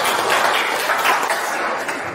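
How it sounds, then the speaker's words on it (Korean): Audience applause at a Gwangju forum on disability arts welcoming a speaker, a dense continuous burst of clapping from a hall crowd. "큰 박수로 맞이해주십시오"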